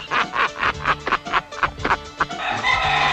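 A rooster clucks and crows in rapid, close, loud repeated calls, with a roughly even rhythm and no talk over it.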